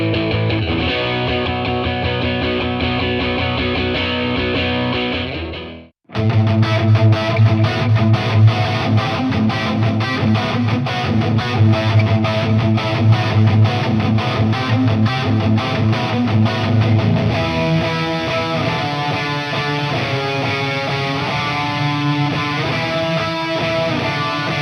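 Electric guitar played through a Fender Mustang GTX 100 amp with effects, a loud, continuous, distorted performance that briefly drops out near the start before resuming with layered sustained tones.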